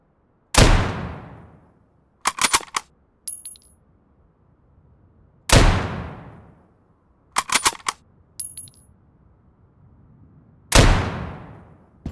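Single gunshots from a bolt-action style gun in the video game Road to Vostok fire three times, evenly spaced, loud and close. Each shot is followed by metallic reloading clicks and clacks.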